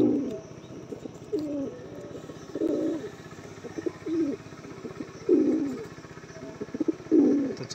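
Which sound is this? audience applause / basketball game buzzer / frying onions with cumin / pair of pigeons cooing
pair of pigeons cooing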